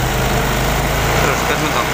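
Honda Vario 125 scooter engine running steady and loud at raised revs, a dense continuous buzz close to the machine.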